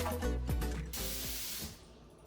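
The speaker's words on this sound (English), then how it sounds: "Even when I put the water in the pot" Tap water runs and splashes steadily into a pot of beets being prepared for canning, a close, continuous hiss that thins out near the end.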